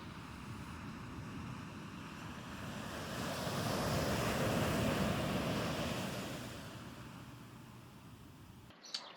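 Waves wash onto Crystal Beach in Kalamaki, Greece, in a continuous surf roar mixed with wind buffeting the microphone, swelling in the middle and then easing, with a brief knock at the end.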